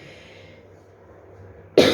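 A single sharp cough bursts out loud and close at the very end, after a quiet stretch of low room hum.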